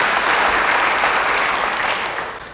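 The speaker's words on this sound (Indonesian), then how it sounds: "Beri tepuk tangan bagi dia" A church congregation breaks into loud, dense applause that fills the room, holding steady for a couple of seconds before beginning to fade, with no voices over it.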